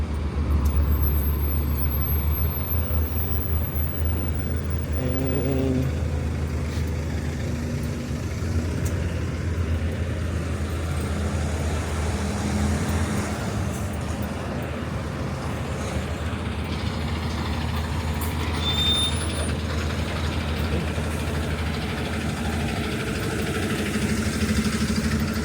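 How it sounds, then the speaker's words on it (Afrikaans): A city bus on the move in Avondale, its engine droning low and steady from inside the cabin for the whole stretch, with faint rattles over the hum and no clear air-brake hiss. "dis die bus wat ons hier ry"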